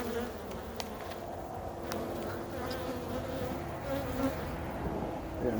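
Honeybees buzz around an opened hive in winter while candy is set out for feeding, a dense, steady drone of many insects close by with faint handling taps, and no talking.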